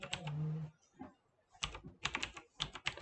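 Computer keyboard keys clatter in bursts of quick presses while entering data in accounting software, close and clear with short pauses between runs of typing.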